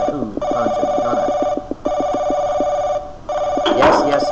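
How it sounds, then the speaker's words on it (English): A telephone rings in a video game, a repeated electronic bell in two bursts with a short gap, loud and close, with a louder clattering burst near the end. "Ooh, phone's ringing."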